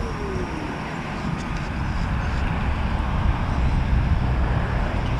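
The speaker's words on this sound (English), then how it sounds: "Wait for this car to go by." A car passing along a road, a broad rushing roadway noise that swells gradually and stays loud and close for several seconds, heard alone without voices.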